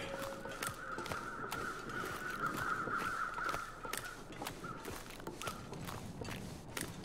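Crows caw repeatedly in The Long Dark, their harsh calls rising over a steady outdoor wind bed, with crunchy footstep-like clicks tapping along throughout.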